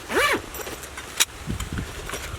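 Zipper on an 8x10 Tuff Possum center-zip pouch from a minimalist haversack pulled open in one quick close-up rasping stroke, followed by faint handling and rustling.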